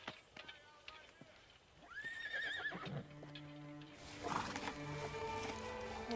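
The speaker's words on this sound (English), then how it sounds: "Horse." A horse whinnies twice, a rising then wavering neigh up close, followed by a longer, louder shaky whinny with hoof clatter and stable noise around it, faint voices in the background.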